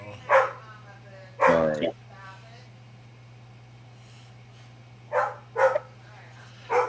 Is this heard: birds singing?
no